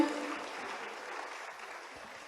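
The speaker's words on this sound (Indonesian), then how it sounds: "Boleh langsung maju ke depan dan tepuk tangannya teman-teman." Faint audience applause at a new-student welcome event at Institut Teknologi Bandung, soft diffuse clapping that fades slightly over a couple of seconds.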